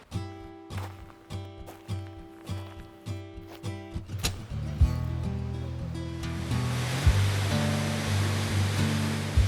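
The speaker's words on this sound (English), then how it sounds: "all the water, it's like a whole road just dripping down from the rock, so it's like raining, but it's not raining" Water dripping and pouring down from cave rock like rain in Slovenia, starting as a series of distinct splashing drips that merge into a steady, rushing spatter, fairly close and moderately loud.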